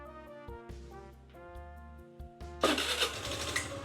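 A 2023 Malaguti Madison 150 scooter with stock exhaust is started: tonal background notes give way to the engine catching near the end, then running with a close, broadband mechanical roar.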